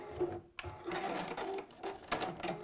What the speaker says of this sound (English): It means that my stitching will go over, and then I'll just do my little triple stitch.